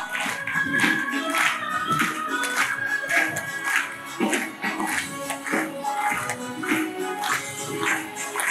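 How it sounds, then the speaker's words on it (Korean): An audience claps steadily at a volunteer ignite event, with loud, continuous applause and some scattered taps and shuffling under it. "여러분 박수 쳐주세요."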